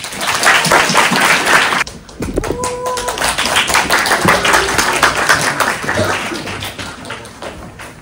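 Audience applause after a student's thesis presentation at a school, a sustained burst of clapping that breaks off briefly, then resumes and gradually thins out.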